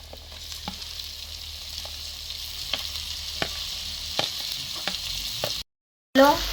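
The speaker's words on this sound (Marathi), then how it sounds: "टोमॅटो आणि कांदा छान परतून झालेला आहे" Tomatoes and onions sauté in a pan for a Khandeshi tomato chutney, giving a steady broadband sizzle with scattered sharp spatula scrapes and clicks, a brief dropout near the end, then a louder burst of stirring.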